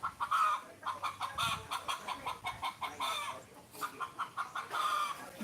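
A hen clucking after laying an egg, repeated rhythmic clucks in quick series, moderately close and fairly faint, with no talk.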